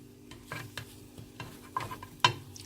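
French toast sizzles and bubbles in a pan with a soft, steady hiss broken by a few light clicks and taps, heard up close with no talking.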